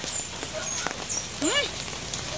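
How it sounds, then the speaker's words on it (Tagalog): Heavy downpour on the road to Davao, a steady dense hiss of rain drumming on a surface that fills the whole stretch, with a short vocal sound rising briefly above it. "grabe kalakas na ng ulan guys"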